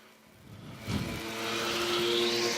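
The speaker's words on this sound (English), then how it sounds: "we are green flag racing now for the Bangers here at Dillon Motor Speedway" Banger-class race cars roar past at Dillon Motor Speedway under green flag racing, a loud engine drone that swells and sustains as the field passes nearby, no voices.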